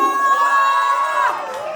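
Crowd at a sangeet wedding celebration cheering and whooping loudly in a sustained burst, with high children's shouts mixed in, close and continuous.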